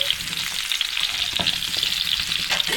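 Amla gooseberries frying in a pan for pickle, a continuous bright sizzle with crackling pops and occasional stirring scrapes, close and steady with no voices.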